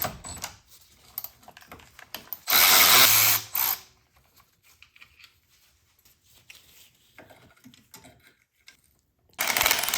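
A power tool buzzes in a loud burst, then again near the end, unbolting a coolant crossover from the subframe of a 2011 BMW 328i with N52 engine, separated by quieter clicks and handling of metal parts.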